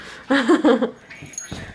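A puppy gives a couple of short whiny, yelping vocal bursts up close, followed by quieter snuffly noises, indoors at home during a hurricane.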